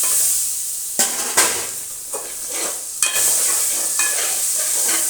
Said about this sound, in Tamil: கருக விடாமல் இந்த இஞ்சி பூண்டை அதில் அப்படியே சுற்றி சுற்றி நம்ம கிளறிக்கணும்